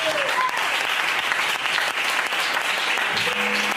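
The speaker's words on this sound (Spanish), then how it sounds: "Dame un fuerte aplauso al Señor." A Spanish-language church congregation claps loudly and continuously during a service, a dense, steady wash of hand claps filling the space with a few faint tones and voices underneath.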